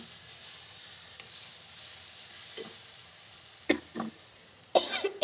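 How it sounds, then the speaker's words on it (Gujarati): Quiet sizzle and stirring of raw mango shaak cooking in a pan, with heated spices filling the air, then a few sharp coughs near the end, close and loud against the soft frying. "કોઈ પણ મસાલો ગરમ થાય ને ઉડે એટલે ઉધરસ આવે તરત જ."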